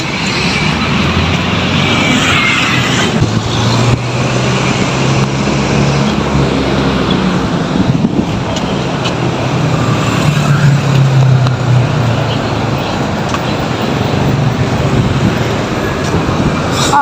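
A road vehicle rolls past in a continuous loud rumble of engine and tire noise that swells and fades gently over many seconds, with no talking.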